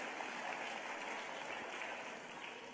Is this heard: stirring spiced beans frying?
no